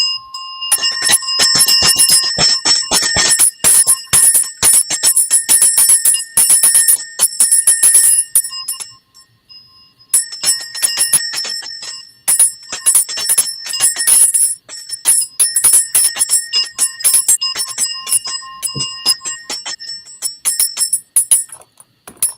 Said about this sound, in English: Yeah, let's do the bells.